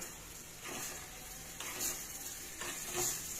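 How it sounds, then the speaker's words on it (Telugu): Radish curry stirred with chutney mixed in, in a sizzling pan: three scraping spoon strokes sweep through the food over a steady low frying hiss, close and moderately quiet. "పచ్చడి ఇందులో వేసేసి మంచిగా కలుపుకోవాలి"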